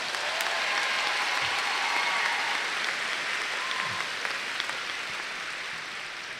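Sustained applause from a large crowd at a 2022 high school graduation ceremony for the graduating class, dense and steady throughout before easing slightly toward the end, with faint cheers mixed in.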